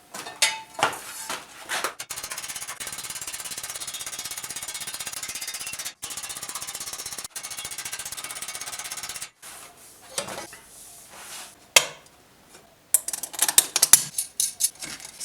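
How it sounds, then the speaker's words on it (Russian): Steel elbow armor is hammered and planished, with dense metallic striking that runs steadily for several seconds, then gives way to scattered, irregular clanks and taps up close. "Сейчас же я уберу болт и просто дорихтую вот эти зоны"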